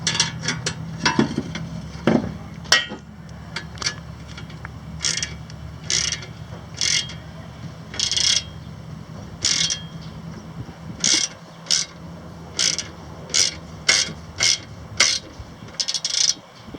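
A ratchet clicks in rapid bursts while two stacked sockets turn a 10 mm bolt during an air intake install on a 2013 Dodge Challenger SXT 3.6L V6, with about a dozen short, close ratcheting strokes separated by brief pauses.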